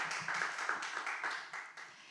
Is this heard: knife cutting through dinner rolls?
no